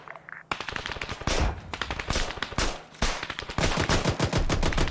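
Gunfire from the video game Arma 3 during a tactical jungle assault: loud, rapid machine-gun bursts and sharp shots rattle almost continuously after a brief quiet start, with short pauses between volleys.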